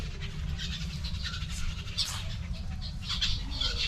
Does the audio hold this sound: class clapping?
no